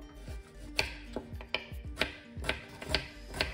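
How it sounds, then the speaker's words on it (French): A knife chops an onion on a cutting board in a steady series of sharp, close taps, about two per second, alone with no talk. "À présent, on coupe notre oignon."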